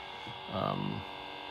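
A deep, steady electronic hum from an Electrum Sabercraft Remnant lightsaber swells briefly with a low throbbing pulse, then settles back to a quieter background drone.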